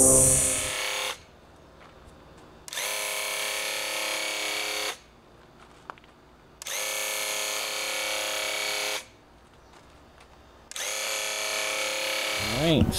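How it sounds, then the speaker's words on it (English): A power sander working over painted wardrobe parts, running in three long whirring bursts separated by brief pauses, loud and close with a buzzing tone. "So now we're having to go back through and sand these all back down."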